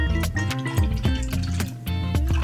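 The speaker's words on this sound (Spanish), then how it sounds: "Voy a poner agua." Water is poured into a Christmas dish of slime ingredients, a close, bubbling, gurgling fill with dripping splashes and a rising liquid tone, continuous and fairly loud with no talk.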